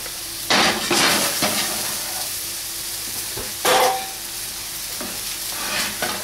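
Liver sears in a hot frying pan for liver and bacon, a steady close sizzle with louder crackling bursts where pieces are stirred or moved, no talking.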